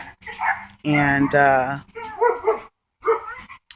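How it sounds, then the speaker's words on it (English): A dog barks and whines in a couple of loud, close bursts, mixed with a person talking in short phrases around them. "hold on, that's my dog. Let me get him in check."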